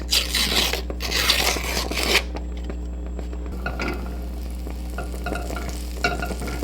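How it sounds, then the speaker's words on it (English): Butter sizzles and crackles in a hot pan before crepe batter goes in, louder bursts of scraping and frying early on, then a quieter steady sizzle with a low hum underneath. "It's nice and sizzling"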